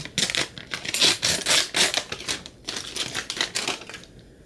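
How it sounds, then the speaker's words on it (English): Crinkly plastic wrapping is pulled off the small cube charger block of a 14-inch Space Grey MacBook Pro M3, a close, continuous burst of rustling and crackling for several seconds. "let's go ahead and unwrap this"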